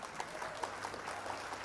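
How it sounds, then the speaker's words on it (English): Soft, faint applause from a small audience for a judge at a live online singing show, a steady patter of claps lasting under two seconds with no voices over it. "Applause for you."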